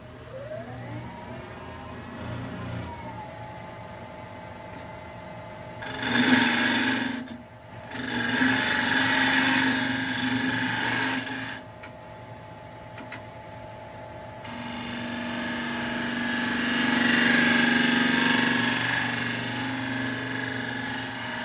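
A bowl blank with defects spins on a wood lathe as a gouge trims down the tenon, giving a steady motor hum with raspy cutting bursts that swell and fade as the tool engages.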